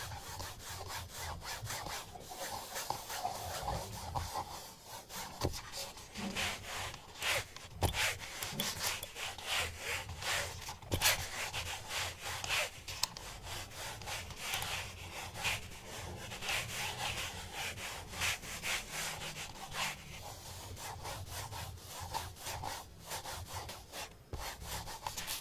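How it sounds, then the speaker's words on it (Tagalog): A mouse slides back and forth across a Zen One Pro Series cloth gaming mouse pad, giving a continuous close, scratchy rubbing hiss that keeps going with small swells and no speech. "ito nga pala yung tunog ng mouse pad pag ginagamit nyo yung mouse nyo dito"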